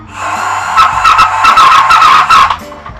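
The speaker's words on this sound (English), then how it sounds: "you can hear that the engine's getting caught a little bit" A restored 1978 Kenner X-Wing Fighter toy's electronic engine sound, a loud buzzy, honking whine that rises and wavers for a few seconds, close up, catching slightly.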